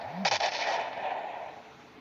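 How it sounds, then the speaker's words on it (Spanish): A bomb explosion sound effect: a sharp, loud blast followed by a broad rumbling roar that slowly fades over about two seconds, with a short whooshing sweep just before the impact. "Hay diferentes bombas."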